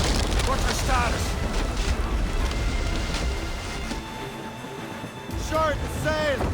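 Ship cannon fire in the video game Assassin's Creed Rogue, deep booming blasts and rumble over wind and sea noise during a naval battle, with crew voices shouting and calling out over the barrage.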